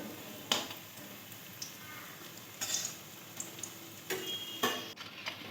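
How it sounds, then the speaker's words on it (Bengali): Chital fish muitha fry in oil until reddish with a low, steady sizzle, broken by occasional sharp clicks and spatter pops from the pan, fairly quiet and without talk. "তো চলো মুইটাটা খুব সুন্দর করে আমি ভেজে নেব লাল লাল করে"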